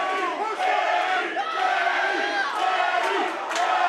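A roaring crowd at a Combat Night fight event in Fort Lauderdale yells and cheers steadily throughout, loud and close, with shouts rising above the constant din.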